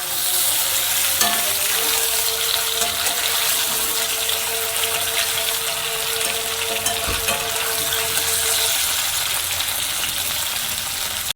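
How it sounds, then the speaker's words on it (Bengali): Steamed potatoes frying lightly in a pan for aloo dum, a steady close sizzle running throughout with occasional stirring clinks and no talk. "আলুটা একটু হালকা ভেজে নেব"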